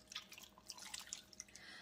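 About a cup of water is poured around the sides of a crock pot holding stew beef, giving a brief, busy trickle of splashes and drips close by.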